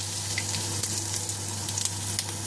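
Bay leaves and whole cumin seeds sizzling in hot oil in a pan, a steady close frying hiss with a few small crackles and pops, heard alone without talk.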